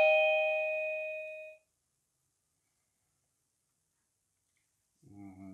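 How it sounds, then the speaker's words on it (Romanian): The indoor chime of a SMART D05 WiFi video doorbell rings one clear ding-dong tone that fades out, followed by silence and a short faint clatter near the end. "se poate adăuga această sonerie de interior"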